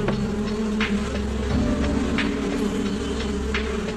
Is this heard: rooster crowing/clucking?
no